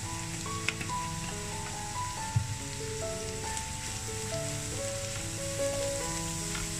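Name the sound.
turmeric powder frying in a pan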